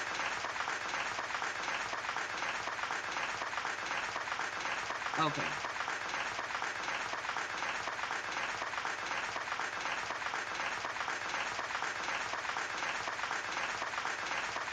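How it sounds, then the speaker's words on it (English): Continuous crowd applause runs steadily throughout, fairly quiet and even, with a brief spoken word breaking in near the middle. "long round of applause. Why it won't stop?"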